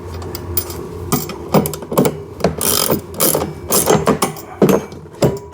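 A nut is tightened onto a washer and screw on a kids' two-seater 4x4 ride-on car, giving close irregular ratcheting clicks and plastic knocks in short bursts.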